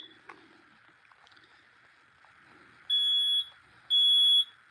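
Two loud, piercing electronic beeps from a smoke alarm, each about half a second long and a second apart, follow a quiet stretch of faint rustling.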